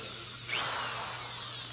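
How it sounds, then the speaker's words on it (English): A power drill bores into wood during an upcycled wood craft project, its whine starting abruptly partway in and holding steady and close until the end, with no talking. "All that drilling."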